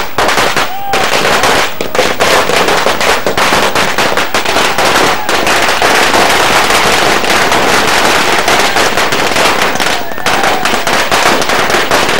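Dense, continuous crackling of firecrackers bursting rapidly at a celebration, loud and relentless with sharp pops layered over each other.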